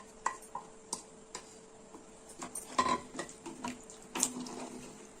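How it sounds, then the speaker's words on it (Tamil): About half a litre of water runs and splashes into a cooking pot with potatoes and chicken among scattered metallic clinks and knocks of cookware, fairly quiet and close. "கறி உருளைக்கிழங்குலாம் வேகிறதுக்காக நம்ம தண்ணி ஒரு அரை லிட்டர் பக்கம் சேர்த்திக்கலாம்"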